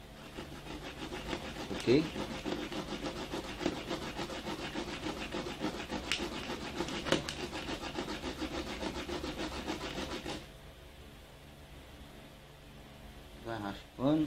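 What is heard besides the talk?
scraping a flamboyant seed coat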